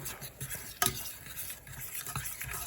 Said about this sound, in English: I'm going to give that a good stir.